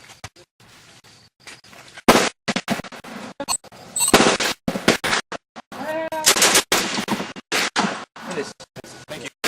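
Rifle fire at an outdoor range: loud, sharp reports and bursts crack out irregularly at close range, with people talking between shots.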